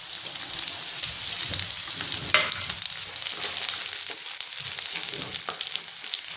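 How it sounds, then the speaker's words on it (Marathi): Roughly cut onion fries in oil in a kadhai, a dense, even hissing sizzle with brief crackles and a sharp spatter partway through, near and steady, with nobody talking. "आता त्याच कढईमध्ये मी असा रफली कट केलेला कांदा घालत आहे"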